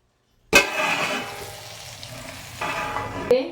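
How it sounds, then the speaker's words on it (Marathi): Stuffed dhabbu capsicum cooks in a pan on a low gas flame, steaming until soft. A loud sizzle bursts in abruptly, then settles into a continuous hiss, swelling again briefly near the end with a faint clink. "बारीक गॅस करून शिजवून घेऊया आपण आणि ढगू मिरची लगेच शिजत्या"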